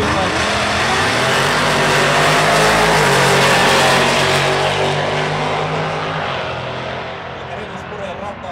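Street Real class drag race cars launching at a national drag racing event in Alastaro, a loud sustained roaring engine blast that rises and then slowly fades into the distance.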